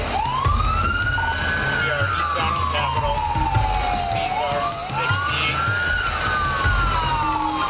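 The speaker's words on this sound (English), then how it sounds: "Sirens wail, tires screech" Police car sirens wail in rising and falling sweeps during a high-speed chase, loud and continuous over road rumble, while a radio voice speaks intermittently.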